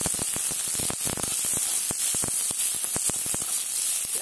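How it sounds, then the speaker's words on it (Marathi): Onion, ginger and garlic roast in a hot pan with a continuous loud hissing sizzle, broken by frequent small crackling pops, close up and with no voices. "कांदाही आपल्याला खरपूस भाजून घ्यायचा आहे। त्यातच आपल्याला आलं आणि लसूण हे देखील टाकून भाजून घ्यायचं आहे व्यवस्थित।"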